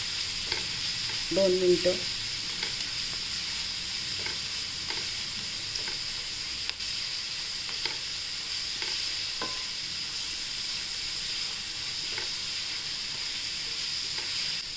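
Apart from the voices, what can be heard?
garlic sautéing in oil in a pan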